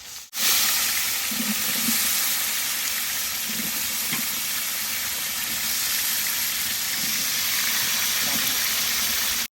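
Onions sizzle steadily in hot oil for a village-style quail curry, a continuous bright frying hiss with occasional stirring thumps and a voice speaking over it.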